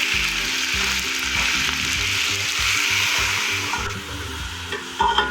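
Golden onions and chicken pieces frying in a pan for an aloo matar chicken salan, a steady loud sizzle with rhythmic stirring scrapes throughout, close up and without talking.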